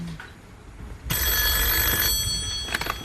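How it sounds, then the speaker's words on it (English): On the Deal or No Deal game show in 2006, a telephone bell rings out suddenly, loud and shrill, sustained for about a second before fading under studio noise. "And now the phone is going to ring."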